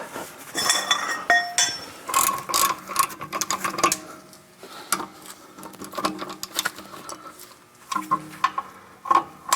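A ratchet works the brake caliper bolts on a Toyota 4Runner, with bursts of quick metallic clicking and clinks of tools and parts, close and irregular, between brief quieter moments.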